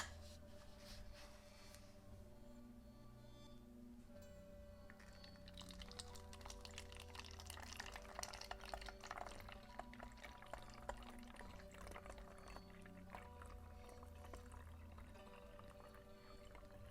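Homemade hair spray liquid pours continuously through a funnel into a spray bottle, with a steady gurgling rush over a low background hum.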